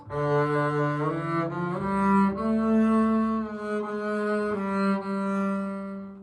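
A bowed double bass draws smooth, sustained low notes that glide from one pitch to the next, warm and continuous, with no voices.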